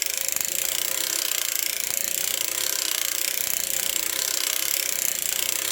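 A hand-cranked circular sock knitting machine with 48 stitches, knitting DK weight yarn in the round, gives a fast, continuous mechanical clatter of needles and cams that is loud, close and steady throughout.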